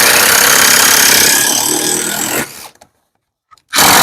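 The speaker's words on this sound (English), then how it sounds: "you can see the screws going in there" A power drill runs loud and steady, driving screws in close range, then cuts out abruptly; after a brief silence it starts up again at full speed.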